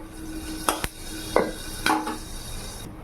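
A washed kadai set back down on a kitchen stove gives a few sharp metallic clanks and knocks, spaced over about a second, close and moderately loud with no talking.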